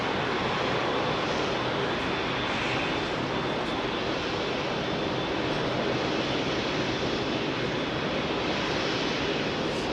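A jet takes off from runway 27R at London Heathrow, making a steady broad roar that holds at a constant loudness for about ten seconds with no voices.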